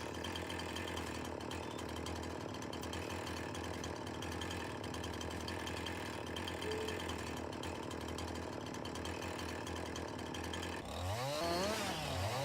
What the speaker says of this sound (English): activate the chainsaw and wait until it has gone through the entire width of the trunk.